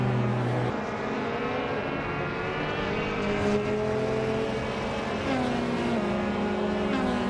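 Touring race cars, a Peugeot 308 and an Alfa Romeo Giulietta among them, roar past in a continuous loud engine drone with shifting pitches as they accelerate and shift gears.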